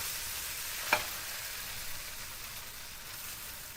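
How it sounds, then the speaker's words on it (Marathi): Batter for a thin fasting dosa hisses on a hot griddle in a steady, soft sizzle. A brief splash comes as it is poured, with no talking. "आता मिश्रण तव्यावर अशा पद्धतीने ओतूया पातळ डोसा करूया"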